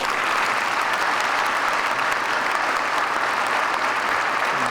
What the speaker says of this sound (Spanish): Hugo Chávez, para quien pido un fuerte aplauso